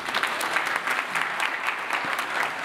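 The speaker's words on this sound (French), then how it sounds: "Adressons une minute d'applaudissement au PDG Mamadou Diallo et toute l'équipe qui l'accompagne" A room full of people gives a warm, continuous round of applause for CEO Mamadou Diallo and his team at Weli-Media's first-anniversary celebration. The clapping is dense and even, with no talk over it.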